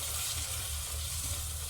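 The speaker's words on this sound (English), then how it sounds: "So roast it up a bit, get all the flavors out." Masala spices with tomatoes and onions fry in a pot, giving a steady, dense sizzle that holds evenly throughout at close range, with no talk.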